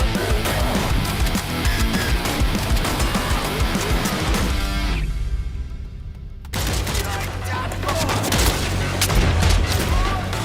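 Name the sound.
gunfire in the BPM Bitcrushed video game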